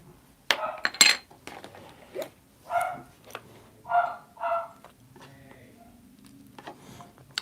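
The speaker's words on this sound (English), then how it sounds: "Oh, he's barking now." A dog barks several times in short, separated bursts nearby, mixed with clinking of small objects on a crafting table and brief speech.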